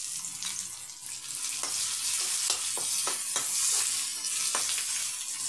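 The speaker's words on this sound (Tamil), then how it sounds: "அந்த வெங்காயம்லாம் கொஞ்சம் வதங்கி வரட்டும்" Onions with coarsely ground ginger garlic paste sauté in a pan under a steady, close hiss of frying, broken by a run of quick utensil scrapes and taps as the mixture is stirred.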